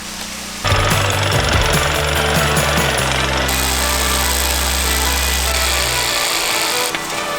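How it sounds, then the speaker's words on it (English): A loud rock drill starts up abruptly and hammers continuously into hard rock at close range, a harsh rattling roar that holds steady before cutting out near the end. "some is like super hard like the one I'm drilling now"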